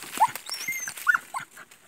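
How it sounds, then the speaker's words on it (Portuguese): An angry dog near a creek in the forest gives a few short, sharp yelping barks with whimpering between them, close and fairly loud against a quiet background. "Esse cachorro está muito bravo."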